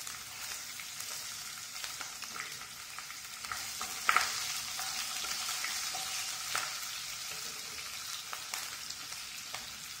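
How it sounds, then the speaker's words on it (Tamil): Cumin seeds and green chillies fry in hot oil with a steady, fine crackling sizzle throughout, joined by a few sharper pops and light stirring clatter, close and at moderate level with no voices. "சீரகம் பொரியிட்டுங்க. பச்சை மிளகாய் காரத்துக்கு ஏத்தாப்புல போட்டுக்கலாங்க."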